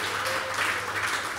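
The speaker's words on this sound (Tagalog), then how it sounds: "Palakpakan natin ang Panginoon." A church congregation applauds together, a dense, steady wash of clapping filling the room throughout.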